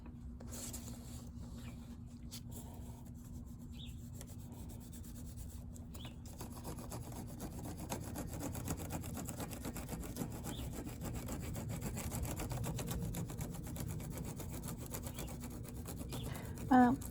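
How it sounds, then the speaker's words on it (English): Steady, faint rubbing of a crayon or pencil across paper laid over textured wood grain, a continuous dry scratchy friction that grows slightly louder midway, with a brief sharper scrape at the very end. "I have some wood right here that has some really nice wood grain, so I'm going to try that on my next rubbing."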